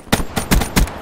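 Gunfire in the video game Black Ops 3: four loud, punchy shots in quick succession with short pauses between them, close and clear.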